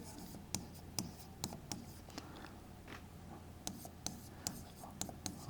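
A pen writes on paper up close, a quiet scratching broken by sharp, irregular taps and strokes, with faint voice murmurs in the background.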